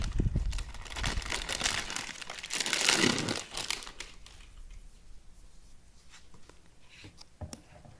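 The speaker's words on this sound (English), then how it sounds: "I'll take it out of the paper so you can see" A notebook is unwrapped from crinkling paper close by, giving a loud sustained rustle for about four seconds, then quieter intermittent crinkles and small taps.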